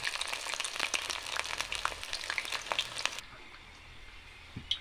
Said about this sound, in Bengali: আর এক সাইড এখন উল্টাই দেবো, উল্টা দিয়ে ভেজে নেব।